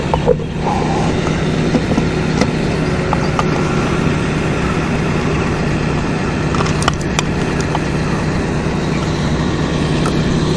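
Automatic game feeder spinning and flinging feed outdoors, a loud continuous mechanical whir with faint rattling of scattered feed, steady from start to end with no talking.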